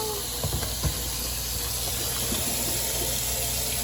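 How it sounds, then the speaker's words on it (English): Boiled potatoes being drained of their cooking water in a home kitchen, a steady splashing hiss of pouring water with a few clunks of the pot, alone and fairly close. "My mom's draining the potatoes."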